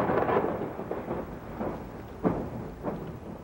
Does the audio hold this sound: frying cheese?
no